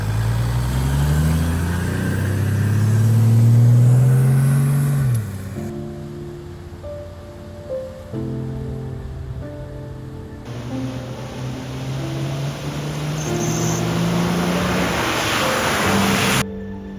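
A 4x4 vehicle crossing a river in the Zimbabwe wilderness, engine droning and shifting in pitch under a steady rush of churning water, loud and close throughout, with no voices.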